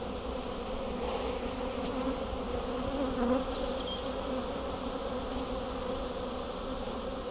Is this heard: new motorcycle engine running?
no